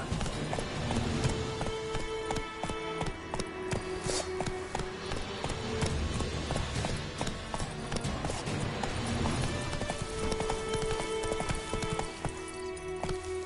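Hooves of Roach, Geralt's horse in the video game The Witcher, clip-clop in a steady trotting rhythm, close and continuous over a layer of sustained background music.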